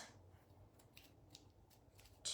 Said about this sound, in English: let's cut out some polka dots